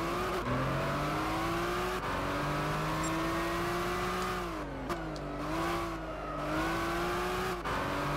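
Mercedes SLS AMG GT3 race car in Gran Turismo 6 at the Goodwood Festival of Speed, its engine droning loud and steady with rising pitch through gears, brief drops on shifts and lifts, and faint tire squeal.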